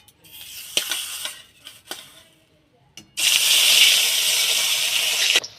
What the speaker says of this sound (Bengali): তেলটা বেশ ভালো করে গরম হয়ে গিয়েছে, এবার মাছগুলো দিয়ে ভেজে নেব।